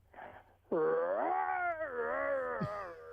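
A voice imitates a Wookiee, letting out a long, loud, warbling growl-howl that wavers in pitch before dropping off abruptly.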